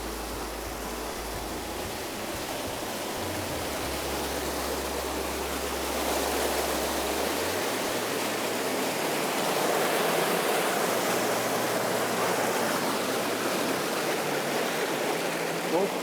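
Small waterfall cascading down a rocky mountain stream, a steady close rushing and splashing of water that runs without pause, with no talking over it.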